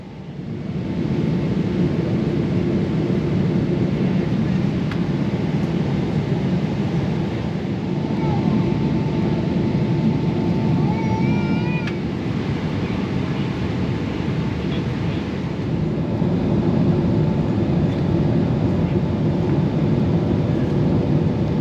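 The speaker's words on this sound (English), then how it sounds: "we were over the coast of England and joined the stack for Heathrow, circling ever lower until it was our turn to land" A British Airways plane descends and lands at Heathrow, heard from inside the cabin as a loud, steady, broadband engine and air roar throughout. A faint chime sounds partway through, and no one speaks.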